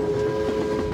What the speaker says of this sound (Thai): เสียงรถไฟได้ยินไกลกว่า 10 กิโลเมตร